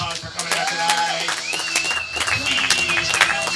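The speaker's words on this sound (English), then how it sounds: "big round of applause for coming out tonight" Applause and cheering from a small audience at a comedy show, a dense run of clapping and voices mixed with talk and whoops.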